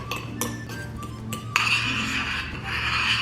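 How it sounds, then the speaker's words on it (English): A fork mashes perfectly ripe avocados in a bowl, making soft squishing and scraping sounds with sharp clinks of metal against the dish, close and steady with no talking. "I can just take a fork and squish them all up"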